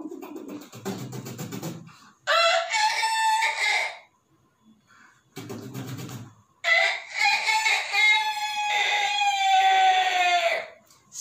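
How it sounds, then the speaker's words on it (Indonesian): A rooster crows loudly and close several times, each long call rising and holding, with short gaps of near silence between them. "kalau bangun pagi-pagi ketika ayam berkokok"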